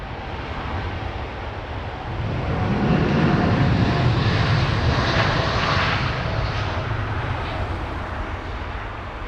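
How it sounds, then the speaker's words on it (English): Boeing 787 Dreamliner on its long takeoff roll at Heathrow Airport, a loud broadband jet engine roar that swells after a couple of seconds and holds steady, with light wind noise and no voices. "Distinctive long takeoff roll of the Dreamliner, using all the runway."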